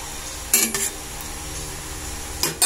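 A lid is set on a pot of simmering coconut milk in a home kitchen, giving two short metallic clanks followed later by another pair of clinks, close and moderately loud over a faint bubbling background.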